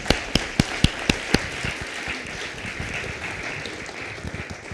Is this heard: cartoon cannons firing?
no